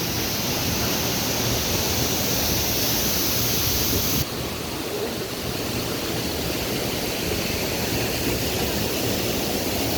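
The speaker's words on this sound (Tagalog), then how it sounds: "So, ito talaga yung dinadayo nilang falls." A waterfall at Ranao Falls roars as a dense, constant wash of rushing water, loud and steady for the whole stretch with no voices.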